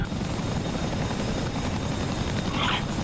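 A Chinook tandem-rotor helicopter in the DCS World flight simulator, flying in formation, produces a steady, dense rotor thrum and engine roar that fills the whole short stretch without pause.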